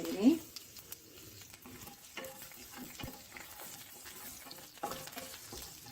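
Curry leaves go into hot oil with mustard seeds, urad dal, turmeric and asafoetida for a tempering, giving a faint, uneven sizzle and crackle with soft stirring scrapes.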